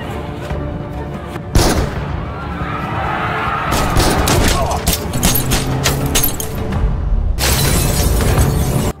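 Pistol shots ring out in a chase through a narrow market alley in a Korean action film, sharp loud cracks separated by bursts of crashing noise and music.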